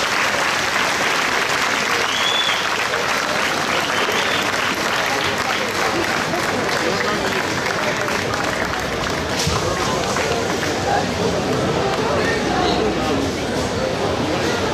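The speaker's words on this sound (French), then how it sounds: "Et Eric va le donner à Thiago, que l'on peut grandement applaudir." Audience at the Fête de Bessan Sunday promenade applauds loudly and continuously for about fifteen seconds, a dense, even wash of clapping with faint crowd murmur underneath.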